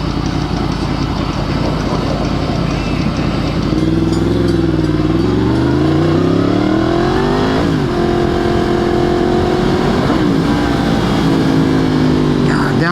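Yamaha FZ-10 motorcycle engine rumbling loud and close, its pitch rising and dropping in several stepped sweeps as the rider downshifts and blips the throttle, with steady wind and road noise throughout.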